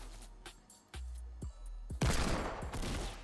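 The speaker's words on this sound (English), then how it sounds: "There's another one shooting at him." Gunfire in a Fortnite Battle Royale match, a few sharp shots followed by a louder sustained burst of rapid fire near the end, with no speech.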